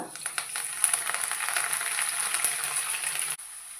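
Coriander leaves fry in hot oil for a pickle, giving a steady close sizzle and crackle that runs for about three seconds and then cuts off abruptly.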